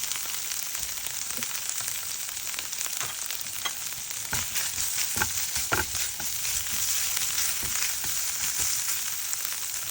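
Pork adobo and rice are stir-fried in a pan, giving a continuous close sizzle and frying hiss with scattered scraping stir strokes throughout, no voices.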